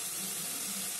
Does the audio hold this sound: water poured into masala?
yes